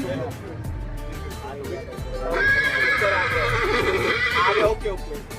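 Horses at a competitive horse show in Anthiyur, India, with a loud neigh rising above the crowd noise partway through, and hoofbeats and people talking underneath throughout.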